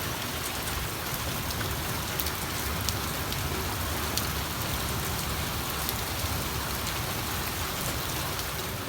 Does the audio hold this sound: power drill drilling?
no